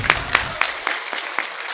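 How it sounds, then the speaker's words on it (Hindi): Loud clapping breaks out for a guru at a spiritual question-and-answer gathering. A few strong claps ring out in an even rhythm over a dense wash of crowd applause, and talk fades beneath it. "एक बार जोरदार ताली गुरुजी को"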